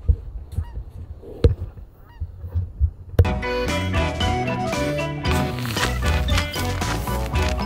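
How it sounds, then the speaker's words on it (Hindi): A flock of geese flying in formation overhead in a snowy outdoor setting, giving a few scattered honks early on before loud music takes over for the rest of the clip. "क्या बढ़िया ये पक्षी जा रहे हैं फॉर्मेशन बना के।"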